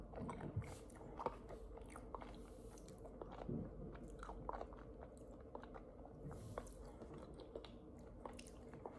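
Crunchy protein bar with hot-fudge-like cookie pieces being chewed close up, a run of crisp, irregular bites and crunches at a steady pace, quiet and with no talking.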